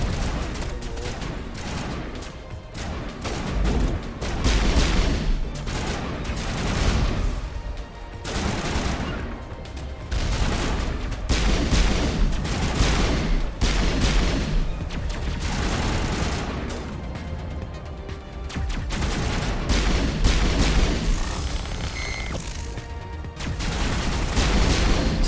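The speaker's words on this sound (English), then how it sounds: "This is a really strong pistol." Gunfire in a Mass Effect battle, dense bursts of shots and booms running continuously at steady loudness, with a voice talking now and then over the combat.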